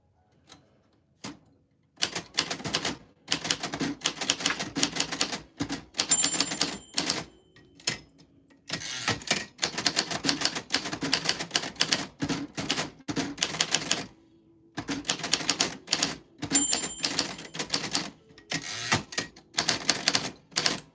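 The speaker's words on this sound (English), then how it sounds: "I typed your name. I hope you like it." Typewriter keys strike in quick bursts of sharp mechanical clacks, with short pauses and a carriage-like tone between runs, close and clear with no voices.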